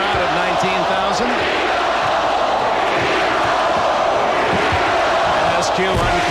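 An arena crowd of about 19,000 at a 1993 Seattle SuperSonics at Phoenix Suns Game 7 keeps up a dense, roaring chant of Beat the Bulls, with rhythmic shouted swells over a constant wash of crowd noise.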